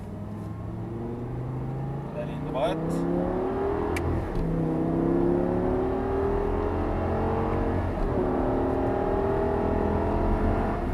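An Audi R8 V10 accelerates hard along the straight of the Circuit du Laquais, its engine note rising steadily through the gears in close, continuous sweeps while someone talks over it.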